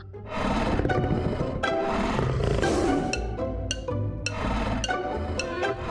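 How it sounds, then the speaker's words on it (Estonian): A tiger in a children's animated show roars in several loud, rough bursts over a busy, music-like background. "Vaata, tiiger."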